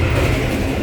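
Train on a railway line in Indonesia, a Gunung-class service between Haurgeulis and Cirebon, heard from on board as another train passes: a loud, steady low rumble and rushing roar throughout, with no voices.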